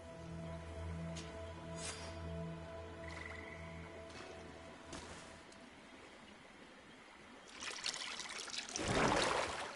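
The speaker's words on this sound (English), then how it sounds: "That must be where we need to pour the potion." Liquid poured out at a stone altar in the video game GreedFall, a brief splashing trickle swelling loud near the end over a steady tonal game-music bed.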